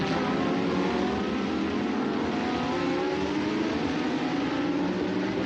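Lamborghini Super Trofeo Europe race cars run on track at Portimao, a continuous loud engine howl with layered tones that rise and blend without pause, no talk heard.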